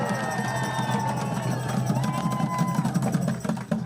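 A large outdoor rally crowd protesting the firing of NOAA employees cheers and hollers continuously, a dense steady roar of many voices with scattered whoops, close and loud throughout.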